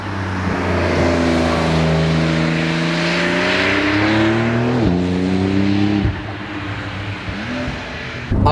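A Porsche 911 of the 992 generation accelerating hard through a tunnel, engine rising through several gears with quick shifts, loud and echoing, a brief lift near the end.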